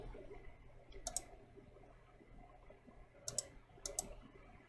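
Computer mouse clicks while changing Windows 10 settings, heard as a few short, crisp, quiet clicks: one near the start, then a pair close together later, against a faint background hum.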